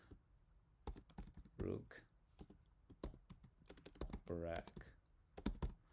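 Rapid bursts of computer keyboard typing, close and clicky, come in quick clusters as someone enters Swift code in Xcode, with someone speaking briefly between the keystroke runs.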